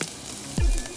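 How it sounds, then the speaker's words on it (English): Sliced garlic hits a hot pan and sizzles, a brief soft frying hiss rising suddenly with a low thump partway through the short moment. "The smell, the sizzling, beautiful."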